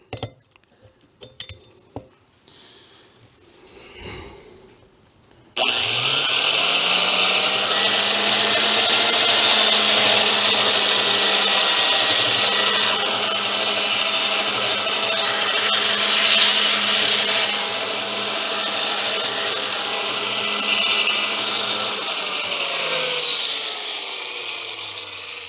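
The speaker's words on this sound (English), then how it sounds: "Let me get you a view of this grinder working." A grinder works on valves from a Waterloo Boy 5HP engine. After several quiet seconds of faint handling knocks, it starts abruptly and runs loud, close and steady with a constant hum and harsh abrasive grinding to the end.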